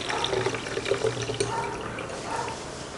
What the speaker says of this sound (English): I am just putting the water inside